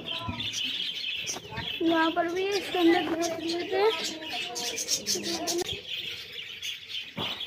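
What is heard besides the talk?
baby birds chirping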